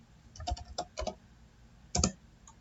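Typing on a computer keyboard to enter a web search, with a quick run of close key clicks followed by a short pause and a final cluster of keystrokes.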